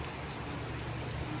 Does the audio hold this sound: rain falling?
yes